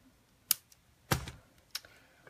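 Cutters snip Soft Flex beading wire in three small, crisp clicks spaced about half a second apart, close and fairly quiet against a still background.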